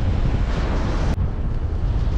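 Strong wind roars across the microphone during a paragliding flight in the Dolomiti Superfly 2022 competition. It is a loud, continuous rushing noise with one brief dip.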